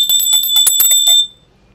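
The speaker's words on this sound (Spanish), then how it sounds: "Mi primer campanazo." A bell rings in rapid repeated strikes for about a second, bright and loud, then trails off into a short fading ring, used as a sound effect on a political talk show called La Campana.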